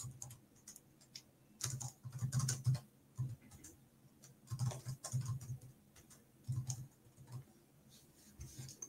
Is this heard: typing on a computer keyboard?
yes